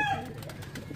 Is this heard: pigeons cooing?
yes